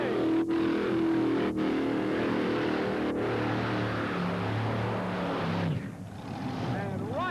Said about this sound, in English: Here he comes with those 5 Arius engines.